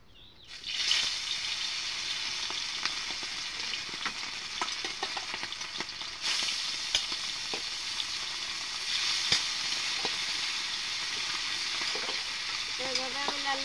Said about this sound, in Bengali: এইভাবে আমি লাল লাল করে এটাকে ভালোভাবে ভাজে নেব